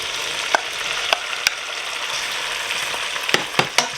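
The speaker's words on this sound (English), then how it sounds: "Now I'm going to add my 2 cut up potatoes. My 1 Cucuzza cut up." Cut-up potatoes and cucuzza squash land in a hot pot for a chowder, bringing a continuous loud sizzle with a few sharp clicks and knocks of stirring, and no voices.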